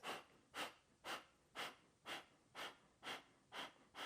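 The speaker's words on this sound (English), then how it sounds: "we're doing a short, sharp exhale out through the nose" Eight quick, sharp exhales through the nose during a yoga breathing exercise, evenly spaced about half a second apart, close and faint with no talking.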